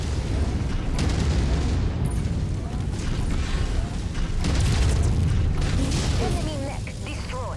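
Explosive booms and heavy rumbling battle noise from a destroyed enemy mech in MechWarrior 5 Mercenaries, loud and sustained, with bursts of weapon fire and a spoken voice over the blasts.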